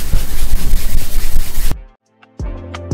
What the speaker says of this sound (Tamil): இந்த பியூட்டேன் கேஸோட கண்டெய்னரை நீங்கள் குளுக்குனீங்கன்னா அதுக்குள்ளே இந்த மாதிரி சவுண்டு கேட்கும்.